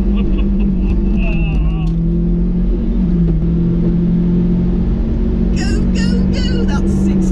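A Daihatsu Hijet kei truck pulls away with a steady droning engine rumble that climbs slightly in pitch, heard from close by with continuous road and cabin noise, while people talk and shout over it.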